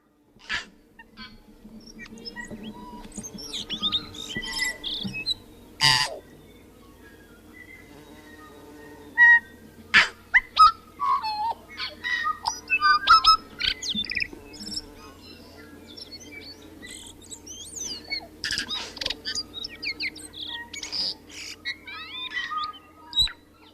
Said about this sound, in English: I will leave you with the sounds of tui, a favourite Otago Peninsula bird of my guests, Paula Cross and Phil Seddon